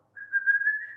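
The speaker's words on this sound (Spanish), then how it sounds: "silbar" A person whistles a single sustained, steady tone lasting nearly a second, clear and close with no other sounds.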